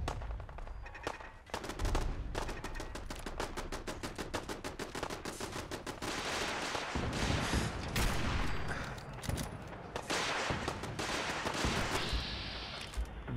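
Gunfire from Gunners raiding the Sanctuary settlement in Fallout 4, dense rapid automatic bursts and overlapping shots that rattle almost continuously, dropping away briefly before resuming at full intensity.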